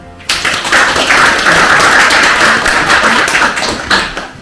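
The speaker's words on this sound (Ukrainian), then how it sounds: "а ще раз оплески" A hall audience at a book presentation bursts into applause. The clapping starts suddenly and stays loud, close and crisp, keeping an even density for about four seconds before tapering slightly at the end.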